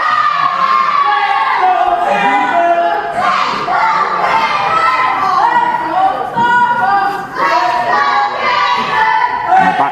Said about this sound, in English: And this crowd really are split here. I can barely hear myself think, Brett.